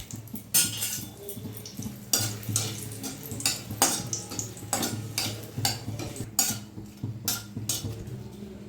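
Dried red chillies fry in hot oil in a pan, with a continuous low sizzle under frequent spoon scrapes and clanks against the metal, close up and without speech.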